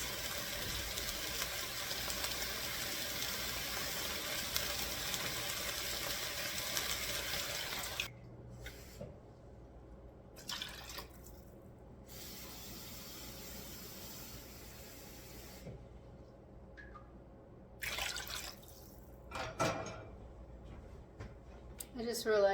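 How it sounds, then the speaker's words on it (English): Water pours into a pot of curry holding meat sautéed with onions, a steady rushing stream lasting several seconds up close, then quieter with brief intermittent splashes and clatter. "I'm going to put the water in now"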